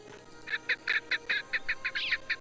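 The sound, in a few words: female wood partridge call, Sherlock Holmes Nemesis video game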